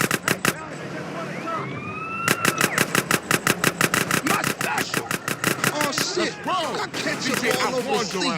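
Rapid bursts of video game gunfire in GTA San Andreas crack out in evenly spaced volleys, loud and close, mixed with engine and siren sounds while voices talk over the action.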